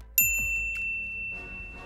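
A notification bell dings brightly twice in quick succession, a clean metallic chime ringing out alone, followed by a fainter shimmering tail.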